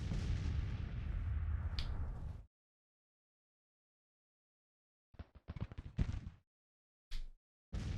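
Grand Tactician: The Civil War battle audio: a sustained roar of infantry gunfire cuts off abruptly, followed after a silence by clusters of sharp musket shots and a few isolated cracks.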